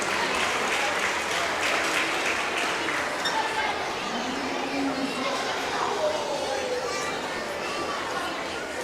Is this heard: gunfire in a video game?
no